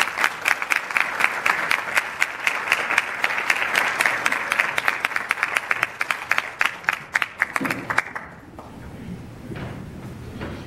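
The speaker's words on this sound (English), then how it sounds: "Please give Teresa another round of applause" An audience at a jazz brunch claps with rapid, sharp, close hand strikes for about eight seconds, then the applause stops abruptly, leaving quieter room noise and a few scattered sounds.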